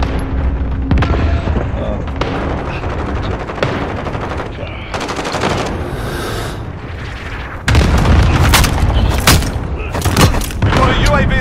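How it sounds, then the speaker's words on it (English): Cluster strike explosions and heavy automatic gunfire in Call of Duty Warzone, a dense, loud barrage of booms and rapid shots that swells sharply partway through, with a voice briefly heard amid the din. "Allied cluster strike inbound"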